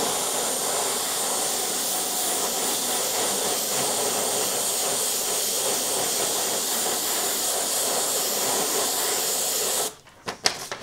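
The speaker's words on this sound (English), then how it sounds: "Try and keep the airbrush angled directly on the surface so that you get less overspray" An airbrush sprays paint with a steady, close hiss, painting bullet-hole effects, then cuts off abruptly near the end, followed by a few faint clicks.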